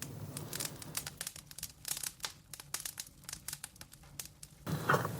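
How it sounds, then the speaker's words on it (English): Irregular crackling and popping of a burning Range Rover, dense and close, like fire burning, with a sharper burst of crackles near the end. "The sound of a burning Range Rover."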